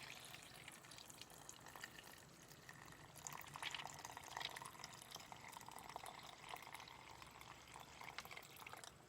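Carrot top tea poured into juice, a soft, steady liquid trickle heard faintly and close up, continuing without pause.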